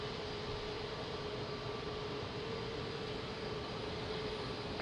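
An airplane taking off at Lisbon Airport, heard as a steady, loud, broadband engine roar with a faint sustained tone throughout and no distinct breaks.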